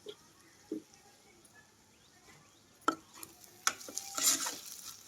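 Onions and green chillies soften in a pan while being stirred, a faint low sizzle broken by sharp spatula scrapes and taps that grow busier and louder toward the end.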